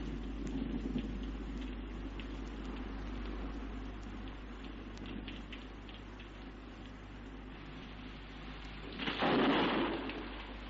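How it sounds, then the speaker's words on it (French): Thunder from an approaching storm rumbles low and distant under a steady wash of rain and ambience, swelling into a louder roll near the end. "Ah, voilà enfin de l'orage, si ça pouvait rafraîchir l'atmosphère."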